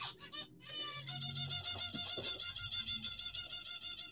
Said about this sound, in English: my birds have just made love again. I knew they were going to do it because I recognized the sounds